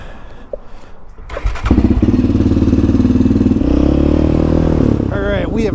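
A Yamaha Raptor ATV engine starts and settles into a loud, steady, throbbing idle and revving close by. It is heard before a pavement ride.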